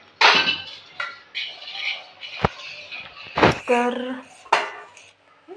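A spoon clinks and scrapes against a bowl while gram flour batter with soda is mixed, in a series of irregular close knocks. A voice speaks briefly.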